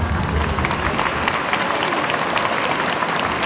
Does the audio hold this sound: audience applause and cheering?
yes